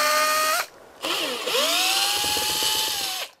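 A cordless power drill backing screws out of RV corner molding, two close, loud whirring runs with a brief pause between, the second pitch dipping then rising as a screw releases, no talk.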